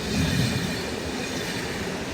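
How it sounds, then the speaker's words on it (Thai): A train rumbles past nearby in an industrial zone near Venice, Italy, a dense continuous roar of wheels on rails with faint clatter, loud and steady throughout. "การแข่งกับรถไฟ"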